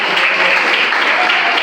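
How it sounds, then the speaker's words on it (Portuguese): Loud, dense clapping from a church congregation praising God during a worship service, a continuous wash of many hands close by and even throughout. "Pode glorificar com mais fortes palmas para o Senhor."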